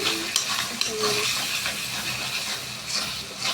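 Tender goat meat stirred in a hot pan, with a continuous sizzle and hiss under scraping spoon strokes and a few light knocks, close and fairly loud.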